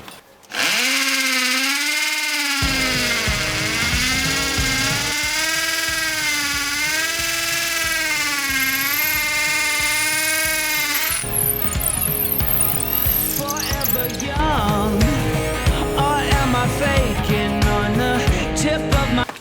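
Harsh, steady mechanical drilling from a Pro Craft impact drill that runs for several seconds, shifting into a rougher, rattling hammering tone partway through as hammer mode engages; loud and close, with no talk.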